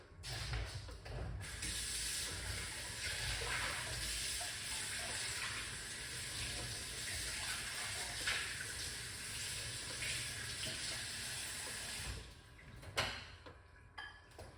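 Water runs steadily from a tap for several seconds while ginger is washed, with faint clinks of handling underneath, then cuts off near the end; no one speaks.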